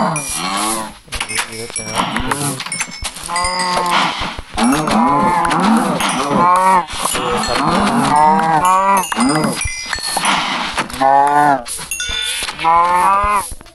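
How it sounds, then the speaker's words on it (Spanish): Cows in the video game Minecraft moo repeatedly and loudly, several overlapping calls in quick succession with little pause, mixed with game effects. "Voy a matar las vacas."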